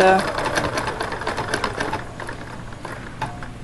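Sewing machine stitching a blanket edge on a lined skirt, a steady rapid mechanical whir with a fast needle rhythm, close and fairly loud, easing off toward the end.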